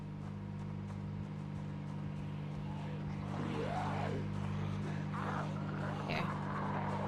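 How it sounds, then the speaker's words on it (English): A loud car engine in the Project Zomboid video game, a steady low drone with slight revving that runs throughout while a voice talks over it. "The car is just too loud."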